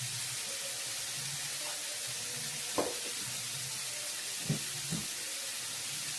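Potatoes with turmeric and chili powder sizzle in a frying pan under a constant soft hiss, with a few light scrapes and taps of stirring, quiet and close, no talking.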